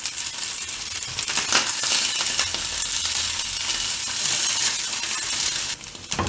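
Cheese-filled onigiri browning in a frying pan, a steady loud sizzle of frying with a few small scraping and turning sounds, continuous throughout with no talking.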